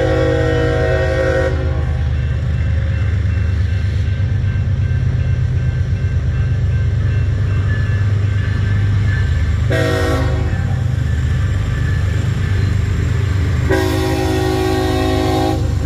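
A CSX freight train rolls past near Nashville, its steady loud rumble and wheel clatter running throughout while the horn sounds in several sustained blasts, close by and with no talking.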